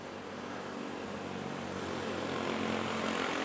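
An Emirates airliner takes off at Manila Airport, a steady, broad engine roar that holds constant and swells slightly as it continues, with no talk over it.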